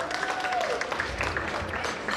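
An audience at a community fundraiser event applauding, a dense moderate clatter of many hands clapping throughout with a faint voice underneath.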